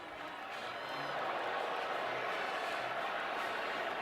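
A stadium crowd at a Texas Tech vs Oklahoma college football game gives a steady, distant roar of murmuring and scattered cheering that swells slightly and holds throughout, forming a dense wash of noise.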